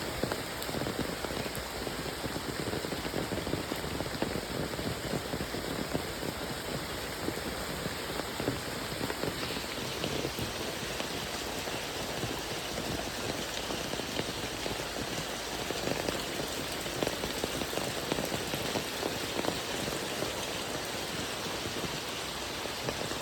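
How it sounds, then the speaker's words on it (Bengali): Rain falling in Bangladesh, a dense, steady patter of drops hitting surfaces nearby, continuous and even throughout with no voices. "বাংলাদেশের টিপ টিপ করে বৃষ্টি পড়াটা আমার সুন্দর লাগে।"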